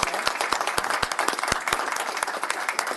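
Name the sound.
applause at a board meeting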